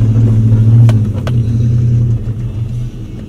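A Chevrolet Silverado pickup truck off-road, its engine giving a loud, steady low rumble that swells as it accelerates, with a couple of brief clicks or knocks over the drone.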